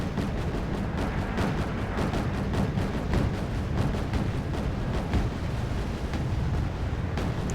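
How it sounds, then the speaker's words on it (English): An explosion aboard a Udaloy warship in the video game Wargame Red Dragon comes through as a dense, continuous roar with repeated booming blasts and crackle, loud and sustained throughout. "Raider operator killed, explosion in the ammo room, weapon operator injured."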